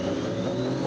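A police motorcycle, capable of 230 km/h, accelerating hard from a roadside speed check, a loud, steady engine roar heard close and alone in a brief burst.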